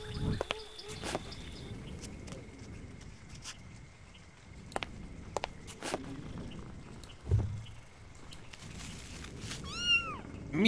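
A cat meows in the video game Grim Legends, a few sparse meows and a rising mewl near the end over a quiet ambient backdrop, with scattered clicks and taps and no talking.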